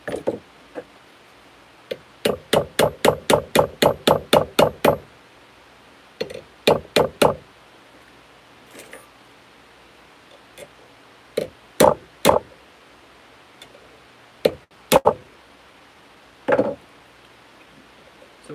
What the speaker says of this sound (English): now let's hammer this guy